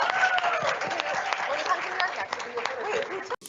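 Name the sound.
audience applause for panelists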